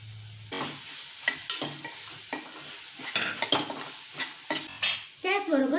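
Chopped potato is sautéed in green masala in a pan, with repeated scrapes and knocks of a spoon against metal over a continuous sizzle, close by, and a brief rattle near the end.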